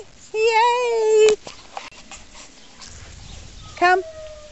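Ringo, a ten-week-old puppy, lets out a high, wavering whimper, a pause with small taps, then a shorter rising whine; the whimpers are close and clear.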